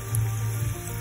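Steady, close sizzling of tempura vegetables frying in hot oil, a continuous crackling hiss with no talking.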